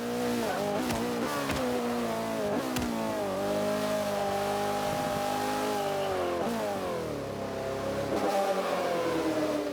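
A McLaren P1 engine revs hard around the Nürburgring in the racing game Forza 5, climbing and dropping through gear changes with a steady loud drone and a brief tire squeal, no voices.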